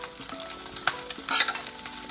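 Spoonfuls of rice going into a hot pan for Chinese fried rice, with a steady sizzle under scraping spoon strokes and a couple of brief clinks, close up and with no voices.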